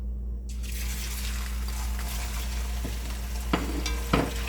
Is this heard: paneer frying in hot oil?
yes